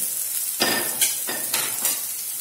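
Ginger garlic paste sautéing in hot oil in a pan gives a steady close sizzle, while a spoon stirs it in several scraping strokes at a regular pace. There is no talking.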